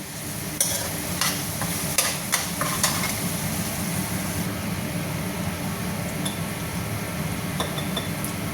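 Masala being stirred in a frying pan: a constant sizzle with repeated sharp spatula clinks and scrapes against the metal early on, settling into steady frying hiss.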